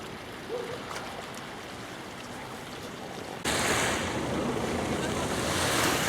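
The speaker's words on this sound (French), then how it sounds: "Alors ça, c'est une petite plage de Port-Vendre." Surf washing onto a small beach at Port-Vendres, a steady broadband wash of waves with wind buffeting the microphone, swelling louder partway through.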